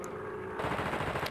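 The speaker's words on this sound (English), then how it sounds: "So I guess use like dump your machine gun into him" Sustained machine gun fire from a video game boss fight, a dense rapid burst that starts loud and grows fuller halfway through, running without pause to the end.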